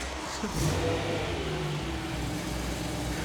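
A BMW E93 M3 convertible's S65 V8 at 47,040 miles starts and holds a steady close-up engine note with a mild rev near the start, running on continuously throughout.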